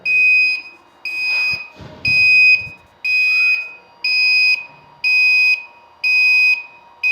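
A water-cut warning alarm on a locally built chiller sounds a loud, steady series of identical electronic beeps, each about half a second long and evenly spaced, with faint handling noises underneath.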